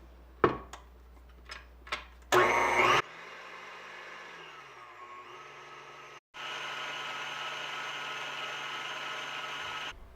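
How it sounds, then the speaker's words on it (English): An electric mixer beats a mixture with cream of tartar toward soft peaks, a steady whirring motor drone after a few knocks and a short loud burst, briefly cutting out and then resuming at full, even speed. "I'm going to beat this until soft peaks form"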